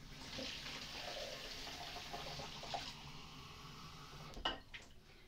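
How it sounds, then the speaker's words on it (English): Kitchen tap running water into a glass, a faint steady hiss and trickle with a small clink near the end, quiet and continuous. "I'm just going to fill up a glass of water."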